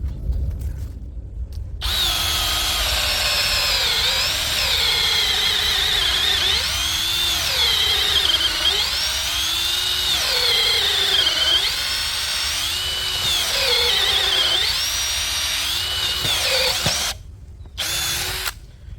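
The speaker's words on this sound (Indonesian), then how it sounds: "kita akan mengebor kayu mahoni dengan ketebalan 15 cm" A Dongcheng DCJ cordless brushless impact drill, in drilling mode at speed 2, whines steadily at high pitch, its tone rising and dipping as the bit bores into 15 cm thick mahogany, stopping briefly near the end.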